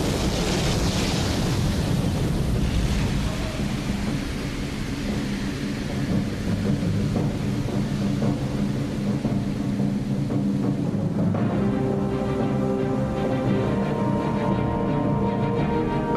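The Atlantic Ocean bursting over a weakened land bridge in a colossal flood, heard as a loud, continuous roar of surging water with deep rumbling thunder-like power, steady throughout with a faint tonal layer emerging toward the end.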